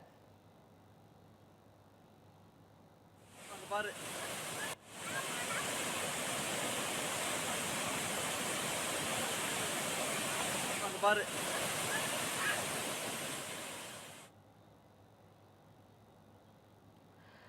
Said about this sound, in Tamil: பாறைகளின் இடையே சலசலவென நீர்வரத்து அதிகரித்து காணப்படுவதால் பார்ப்பதற்கு ரம்மியமாக அமைந்துள்ளது